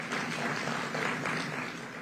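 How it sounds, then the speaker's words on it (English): Applause from an audience at a high-level economic growth forum, a steady dense wash of clapping at moderate distance, even and sustained without individual claps standing out. "Let's give him another round of applause."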